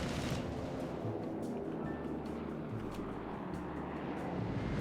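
Warplanes roar overhead in Company of Heroes 3, a steady broad engine drone filling the whole stretch with scattered crackling battle noise beneath it.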